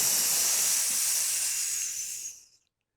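A voice imitates a hiss, breathing out in one long, steady, sustained hiss during a yoga cat pose, holding for about two seconds before fading to silence.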